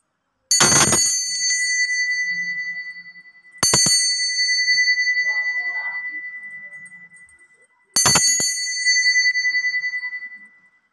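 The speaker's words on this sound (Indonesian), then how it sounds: "kita akan memulai dengan ditandai lonceng berbunyi" Three bright, ringing bell strikes spaced a few seconds apart, each sustaining and slowly fading before the next, with nothing else in the background.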